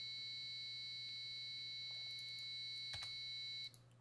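Piezo buzzer on a SparkFun RedBoard, driven from a LabVIEW loop, holding a steady high-pitched tone alongside a low hum, with a few faint clicks and taps, no talking.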